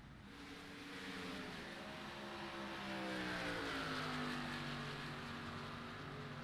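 Race cars roaring around a superspeedway oval in the iRacing sim, a dense pack of engines droning and rising in pitch as they pass, steady and moderately loud with no talk.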